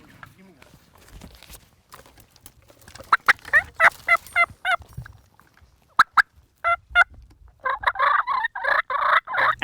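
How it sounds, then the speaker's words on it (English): Wild turkeys gobble in several loud, rapid bursts, with overlapping calls building toward the end, set against a quiet outdoor background with light footsteps. "start fight purring to hopefully get these birds to stick around long enough so Seth can get a shot"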